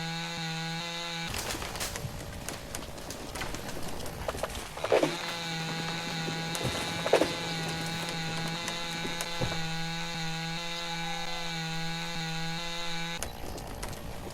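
Chainsaw felling trees in the logging game Lumberjack's Dynasty, a steady droning engine running throughout with a few sharper cutting bursts before it cuts off near the end.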